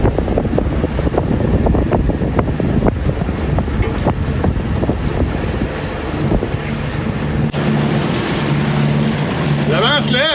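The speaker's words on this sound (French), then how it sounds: "Le vent se lève" Strong wind roars and buffets the microphone over a continuous rush of water around a boat, with a steady tone emerging near the end.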